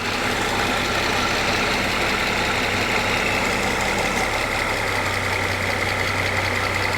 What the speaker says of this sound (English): almost 400 horsepower of 12-cylinder 48 valve Mercedes Magic from 1994